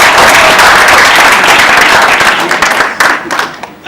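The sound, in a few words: audience round of applause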